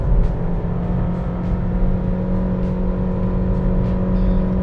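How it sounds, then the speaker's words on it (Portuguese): A 2021 Nissan Versa Exclusive sedan with a CVT climbs a hill, its engine holding a steady raised drone with a constant hum and road noise from inside the cabin, and no voices. "eu vou pegar uma subida aqui, é o único momento que o CVT, ele, tá vendo? Ele joga essa rotação."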